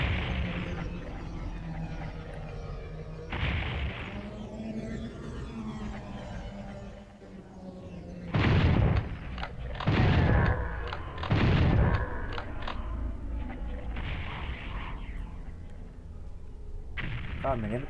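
Several sharp, booming homing projectile shots from Final Doom on PS1 burst in quick succession over a steady game soundscape, with loud blasts clustered near the end.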